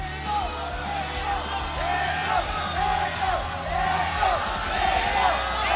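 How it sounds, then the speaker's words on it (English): A large crowd at a Malaysian esports match (MPL MY Mobile Legends) chants in a loud rhythmic roar, with cheering and yelling over the arena din and commentators talking over it. "Wow, the crowd is chanting."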